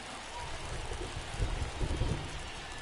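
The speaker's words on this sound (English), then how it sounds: "You can hear the thunder rolling in." Rain falls steadily in a baseball video game, with low rumbles of rolling thunder swelling midway through and fading again, all fairly faint in the background.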